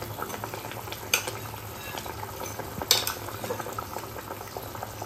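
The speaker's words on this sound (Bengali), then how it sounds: "একটু গরম জল, আন্দাজ মতন জলটা দিয়ে দেখো জলটা ফুটছে।" Water bubbling at a steady simmer in a pot of thin catla fish curry seasoned with black cumin, ginger, garlic and garam masala, a soft continuous bubbling with a couple of brief clinks of utensil against the pan.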